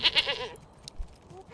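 A brief, thin goat bleat from the video game Manor Lords opens the clip, followed by a few faint clicks and soft noises.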